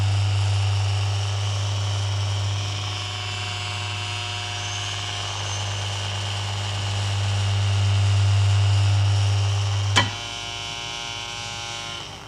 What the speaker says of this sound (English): I'm going to put a little air screw on it, and when I switch this on,